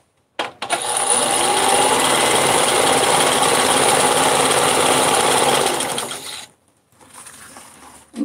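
A small Chinese overlock serger runs steadily and loud in a home sewing corner, a dense mechanical whir lasting about six seconds before stopping abruptly, followed by quieter room noise.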